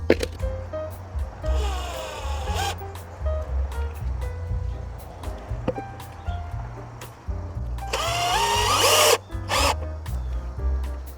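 A power drill whirs in two bursts, rising in pitch as it drives screws into wood on a garden arch, with clatter and handling noises between, close and loud.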